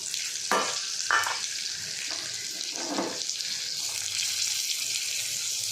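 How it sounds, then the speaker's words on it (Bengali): Chopped garlic sizzles in shrimp-fried oil tempered with black cumin and dried chilli: a steady close hiss, with a few louder bursts of stirring or spatter and no talk. "একটু রসুন ভেজে নেব। কাটা রসুন দিয়ে দেবো।"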